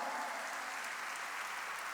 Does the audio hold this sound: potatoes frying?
no